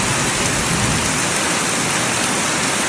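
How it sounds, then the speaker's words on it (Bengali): Heavy, steady rain pours down in a dense, even hiss that fills the whole moment without pause. "দেখো বৃষ্টিটা কি সুন্দর"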